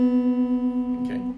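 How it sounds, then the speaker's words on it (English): Two guitar strings, the second string and its neighbour, ring together slightly out of tune, giving a steady sustained note with a slow, regular wavering beat in loudness, heard alone without talk. "It should sound like one note, and not like this."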